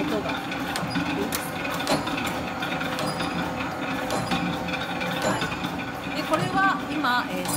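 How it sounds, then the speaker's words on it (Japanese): A small sample-size embroidery machine stitches fabric with a busy mechanical clacking, a rapid repetitive knock and rattle that stays close and loud throughout. "この機械もですね、とっても愛らしくて、 すごく動いてる様子が 見えます。 カコンカコンという音が"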